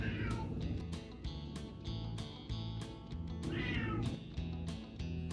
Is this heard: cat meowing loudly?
yes